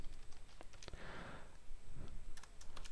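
Quiet clicking keystrokes on a computer keyboard, typed in short irregular bursts while entering an SQL query, close and faint with no voices.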